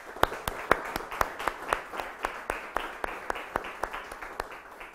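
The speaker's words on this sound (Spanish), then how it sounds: "Te la entregamos, démosle el aplauso." A small congregation at a Mass in church claps in a slow, steady rhythm, each clap sharp and distinct, moderately distant and fairly quiet.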